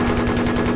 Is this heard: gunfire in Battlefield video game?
yes